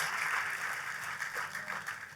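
A church congregation breaks into sustained, lively applause, a dense, even patter of many hands clapping together at moderate loudness for the whole stretch, with no voices.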